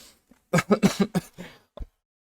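A rapid fit of coughing, five or six harsh close coughs in quick succession, trailing off, followed by one last short cough.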